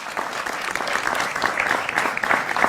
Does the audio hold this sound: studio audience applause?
yes